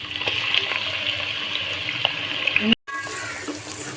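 Chopped garlic and onion fry in a pan for keema matar, giving a steady close sizzle with light crackles and stirring, broken by a brief dropout before the frying carries on.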